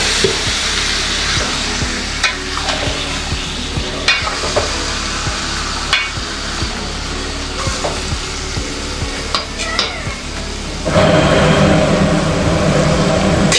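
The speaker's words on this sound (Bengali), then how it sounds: "ভালোভাবে এবার কষিয়ে নেব" Food being stir-fried in a pan, a loud close sizzle with repeated scraping and stirring strokes, swelling into a stronger, brighter hiss near the end as the heat rises, no talking.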